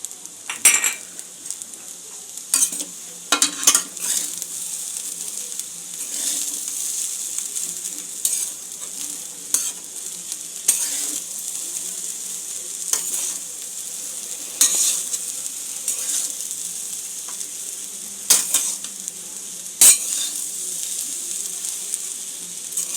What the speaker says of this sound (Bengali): আঁচটাকে লো রেখেই আমি সব উপকরণগুলো আস্তে আস্তে মেশাচ্ছি।